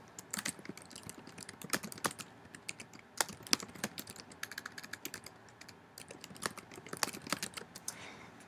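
Fingers type flashcard terms and definitions on a computer keyboard, irregular bursts of clicky keystrokes with short pauses, close and fairly quiet, no voices.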